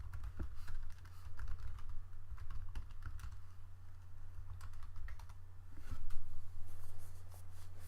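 Typing on a computer keyboard while entering a Docker command, steady irregular key clicks at close range with a low constant hum beneath, no voices.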